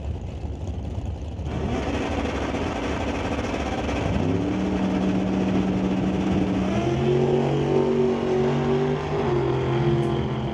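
Drag race cars blast off and accelerate hard down the quarter-mile strip at an NHRA Summit ET Series event, including a Monte Carlo against a Camaro. Engine roar rises in pitch over ten seconds, loud and continuous with no talk.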